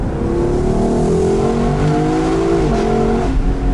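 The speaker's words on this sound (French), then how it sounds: "j'adore le son de ce V8" A powerful Lexus LC 500 convertible V8 engine revs hard at full throttle, a loud, continuous roar climbing in pitch before a brief dip at a gear change.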